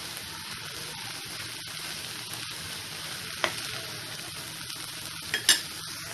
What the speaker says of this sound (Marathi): मीठ चांगलं परतून घ्यायचं आहे